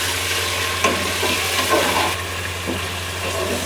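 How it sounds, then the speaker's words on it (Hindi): Meat fries with garlic ginger paste for chana dal gosht, a steady close sizzle running throughout with a few soft stirring scrapes and a low hum beneath. "गोश्त को हम इसमें तकरीबन 10 मिनट तक फ्राई करेंगे"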